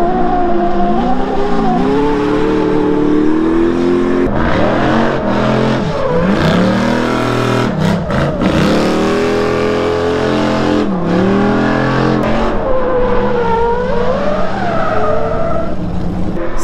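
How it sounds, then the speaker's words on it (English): Rally trucks drift at the SEMA Show with loud, close engines revving hard in sweeping rises and falls, and tire squeal and skidding that rise and fade throughout. "Check out these rally trucks drifting."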